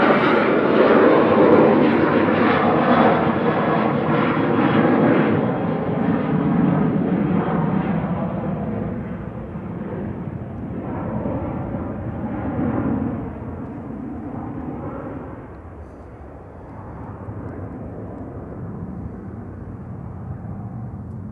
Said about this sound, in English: Ryanair 31872 Madrid departing.